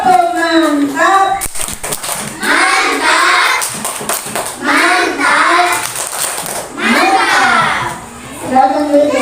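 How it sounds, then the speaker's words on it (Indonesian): Classroom group applause for a student group, a burst of clapping mixed with children's chatter and a teacher's loud voice speaking over it, close and lively. "Oke, tepuk tangan untuk kelompok 1. Terima kasih tepuk tangan."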